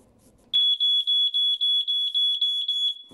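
A homemade aquarium alarm being tested sounds a loud, piercing electronic beep, pulsing rapidly about ten times in a steady rhythm for nearly three seconds after a brief quiet start.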